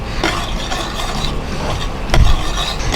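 A spoon scrapes and stirs thick rava halwa sweetened with jaggery in a pan, the scraping steady and close with a heavier knock midway and no talking.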